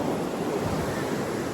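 Atlantic Ocean surf washing onto a beach, a steady broadband wash of breaking waves with wind buffeting the microphone throughout, no voices.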